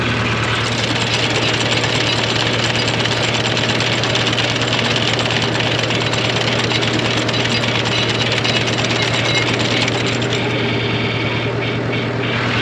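A tractor engine runs hard in first gear with its PTO shaft engaged, a loud, continuous low rumble with steady vibration and no voices over it.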